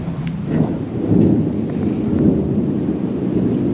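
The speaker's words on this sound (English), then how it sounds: "There's some thunder happening." Thunder rumbling on a dark, rainy day, with a low rolling roar swelling and sustaining over a steady rain-like hiss.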